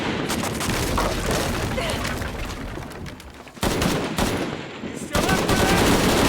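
Rapid gunfire from a shootout in the game Shadow of the Tomb Raider, bursts rattling almost continuously for several seconds with brief gaps, while a voice speaks over the shooting.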